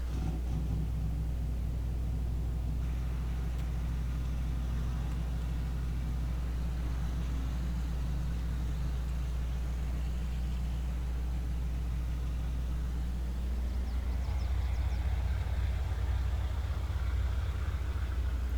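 Chevrolet Silverado truck engine in Farming Simulator 22, a squatted pickup, with a deep steady low rumble while driving that rises in pitch as it accelerates near the end, alone with no talk.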